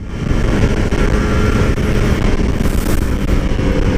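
A two-stroke motorcycle with a stock exhaust drones steadily while riding on a road near Serpong, a continuous close engine hum with wind noise and no talking.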